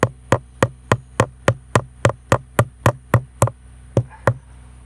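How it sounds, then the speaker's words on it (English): A tiny hammer taps on graft wood during a Texas inlay bark graft, about fourteen sharp, evenly spaced knocks close up, then a short gap and two more taps. "I just have a tiny hammer."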